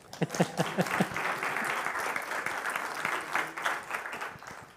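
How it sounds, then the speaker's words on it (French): Congregation applauding at a Sunday morning church service, a steady wash of clapping following a few brief spoken words at the start, moderately loud and sustained throughout. "vous pouvez l'applaudir"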